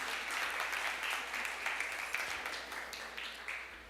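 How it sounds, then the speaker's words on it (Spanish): Sustained congregation applause during a church service, a fairly faint, even wash of many hands clapping that holds steady throughout with occasional louder claps near the end. "Aplaudamos la gloria de Dios también"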